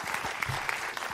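Audience applause for a nervous guest at an event in Lorraine, a short burst of clapping at moderate level with a few sharper individual claps standing out.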